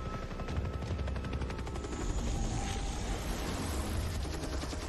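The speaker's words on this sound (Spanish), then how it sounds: "Parece venir vacío el helicóptero." A helicopter in the video game Far Cry 3 makes a steady, loud rotor roar with fast chopping pulses that fills the whole stretch, with no pause and no voices over it.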